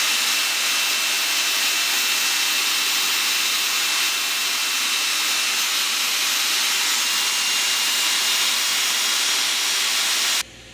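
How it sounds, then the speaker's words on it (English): A turbocharger compressor spun by an electric motor drawing 60 amps, about 3.6 kilowatts, gives a steady, loud airy whine and hiss that holds constant throughout, then cuts off abruptly near the end. "I just gave this a run at 60 amps"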